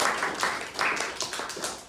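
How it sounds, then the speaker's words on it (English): A church congregation claps hands together in a loud, busy burst of many overlapping claps with a loose rhythm, no voices over it. "Can we give a clap offering to the Lord?"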